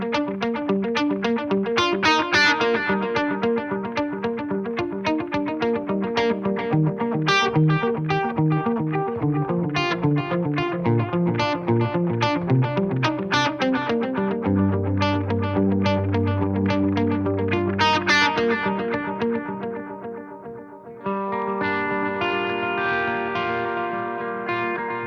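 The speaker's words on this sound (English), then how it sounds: "That's why I can turn the mix up higher with the repeats longer by pulling back the tone of the delay." Ambient electric guitar notes ring through delay and reverb, each plucked tone trailing long echoing repeats that overlap into a continuous wash, with a brief dip before a new chord swells in near the end.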